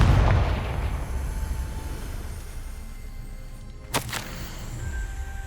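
A Confringo spell explodes in Hogwarts Legacy, a heavy boom at the start that rolls off into a rumbling decay, then a sharp whip-like crack near the end.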